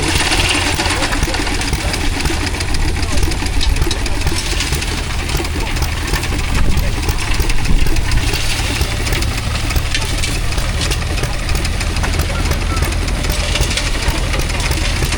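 Austin Champ military vehicle passing at an outdoor country show, a steady mid-pitched engine drone with a slight swell in the middle, amid crowd noise and a voice talking.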